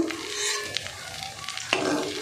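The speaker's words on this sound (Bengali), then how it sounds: "এই যে এরকম আমি লাল লাল করে ভেজে নিয়ে যে তুলে নেব, নিয়ে সবগুলো বড়া ভেজে নেব" Egg and potato fritters frying in hot oil, a steady bubbling sizzle with light stirring clinks and a short scrape, moderately close and without voices.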